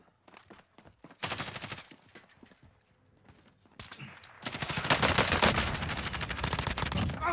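Gunfire in the Warzone battle royale, including sniper rifle shots, bursts out in sharp close cracks, then swells into dense, sustained volleys over the last few seconds.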